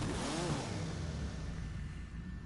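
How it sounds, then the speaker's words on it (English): A rear-wheel-drive car in GTA 5 revs its engine, a loud growling drone that swells and then eases slightly, heard alone without talk. "You can hear that mean engine."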